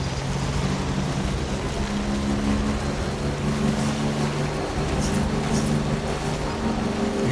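Steady engine drone with a continuous low hum from a motorbike ride in Death Stranding, constant and close throughout without talking.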